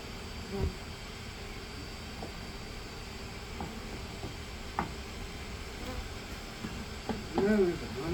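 Honeybees drone in a soft, steady buzz during a hive removal, with occasional louder passes as individual bees fly close.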